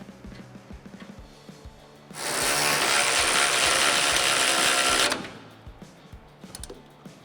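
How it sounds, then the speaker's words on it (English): A power tool spins an 18mm socket to tighten a sway bar end link bolt, a loud continuous whirring burst of about three seconds, with quieter clicks and handling noises before and after. "just use your factory hardware and the 18mm socket again and tighten that down nice and tight"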